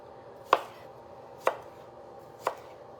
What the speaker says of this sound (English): So I'm just kind of dicing these up.